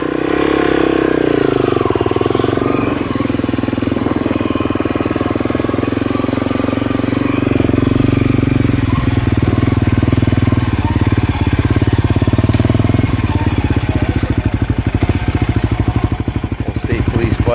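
Antique motorcycles riding through a club meet fun run, a dense, continuous engine drone of several bikes with puttering, rapid exhaust pulses and shifting pitch, loud and close throughout.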